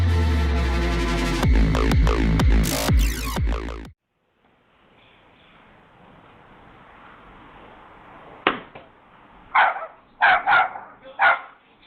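A dog barks in a few sharp bursts late on, close and fairly loud after a stretch of quiet room noise, preceded by a loud burst of unrelated sound.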